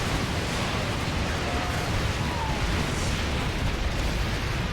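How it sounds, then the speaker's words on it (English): Solar Bombardment explosions in StarCraft 2: Heart of the Swarm, a dense, steady rumble of blasts and bursts sustained throughout, loud and without pauses. "Dude, Solar Bombardment's real good, you know?"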